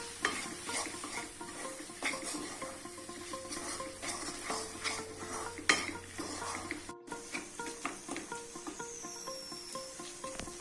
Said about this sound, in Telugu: గరం మసాలా వన్ స్పూన్ ఇలాగా మిక్స్ చేద్దాం